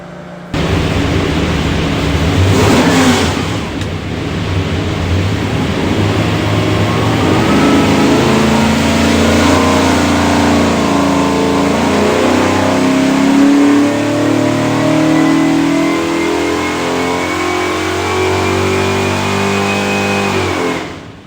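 A 427ci small-block Ford V8 with a hydraulic roller cam and front-sump oil pan, built for a 2016 Factory 5 Racing roadster, pulls hard on a dyno, loud and close, rising steadily in pitch through one long sustained run.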